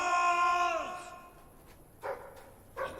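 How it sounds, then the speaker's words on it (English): A dog in the video game Fable III gives a drawn-out whining yelp, followed by two short barks, fairly close and clear with no talking. "Sounds like the dog's found something."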